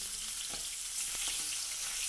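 Fish frying crisp in hot oil, a faint, even sizzle with a few soft pops and crackles, brief and close with no voices.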